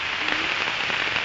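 Heavy rain pours down around a plot of land lined with mango trees in Plaridel, a dense, steady hiss that fills the brief moment with no voices.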